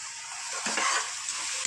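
Crushed spices being stirred and sautéed in a pan for mutton curry, a close, steady frying hiss with a brief louder scrape of stirring partway through.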